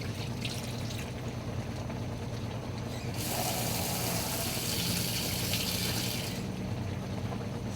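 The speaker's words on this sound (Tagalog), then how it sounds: "Talagyan natin ng tubig." Water runs and splashes into a cooking pot for simmering tuna (sinaing na tulingan) in a steady stream, growing louder partway through, then easing back, with a low background hum.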